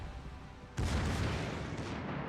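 Heavy warship guns fire in a naval battle game: a sudden loud booming blast after a quiet moment, followed by a sustained rumbling roar that fills the rest of the stretch.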